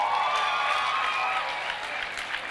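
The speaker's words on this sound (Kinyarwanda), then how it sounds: "Amashyi menshi cyane twakire Muhinde." An audience at a comedy show applauds as a comedian is welcomed, steady clapping from a crowd that fades slightly, with a few brief tonal sounds over it.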